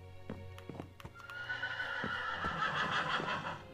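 Horse neighing in the video game Minecraft on Xbox One, a whinny rising over soft clip-clop hoofbeats, with a few sharp clicks in the opening second.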